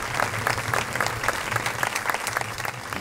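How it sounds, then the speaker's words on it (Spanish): A crowd at a town's patron-saint festival opening claps loudly and continuously for the festival herald, a thick, even roar of many hands with scattered sharper claps standing out, and no voices on top. "un fuerte aplauso"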